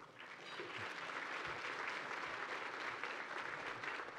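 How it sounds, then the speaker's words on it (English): Warm applause from guests at a 25th anniversary gala dinner and tribute, a steady wash of clapping filling about four seconds at moderate volume. "she is definitely worthy of a UCLA 8 clap"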